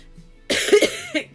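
A short burst of harsh, raspy coughing, two or three quick coughs followed by a smaller one, close and fairly loud.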